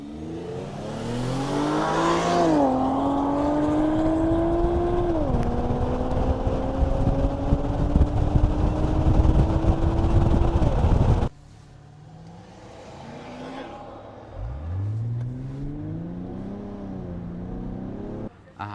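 A car engine revs and accelerates hard with a rising, climbing roar. After an abrupt cut, a second engine surges upward again.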